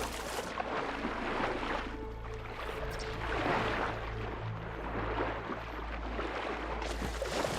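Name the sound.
swimming through water in the video game Horizon Forbidden West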